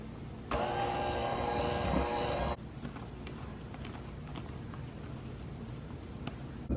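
An electric mixer whirs steadily for about two seconds while beating frosting of pudding mix and heavy whipping cream in a bowl, then cuts off, leaving faint background noise.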